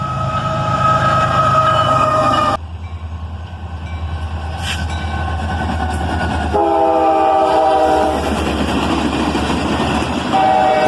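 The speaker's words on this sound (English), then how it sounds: "we caught this southbound led by Canadian Pacific" A southbound train led by Canadian Pacific locomotives rolls past on a hot August morning, its horn sounding in long harmonic blasts near the start and again midway over a steady, close rumble of engines and wheels.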